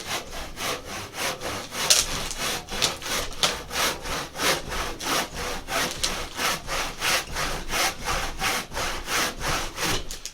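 A hand saw cuts through wood for a carved boat half hull model, its steady back-and-forth strokes rasping in an even rhythm, close and fairly loud for about ten seconds with no talking.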